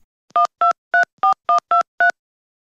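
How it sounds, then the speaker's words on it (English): Telephone keypad dialing a bakery's number, seven short, clear tones in quick, slightly uneven succession, loud and close with silence between them. "As quickly as he could, Arnie dialed the number of the bakery."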